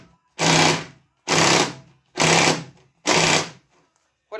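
During a garage door opener replacement, a cordless power gun fires in four separate loud bursts of whirring rattle, each lasting under a second with short silent gaps between, close by.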